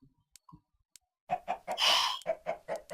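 Several short clucking calls from a Minecraft chicken in quick succession after a mostly quiet start, fairly close and loud, with no talking.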